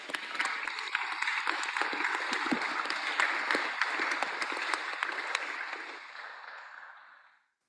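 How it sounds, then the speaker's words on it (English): Audience at a data visualisation prize ceremony applauding with sustained, dense clapping that holds steady, then thins and fades out at the end. "Give them a round of applause, colleagues."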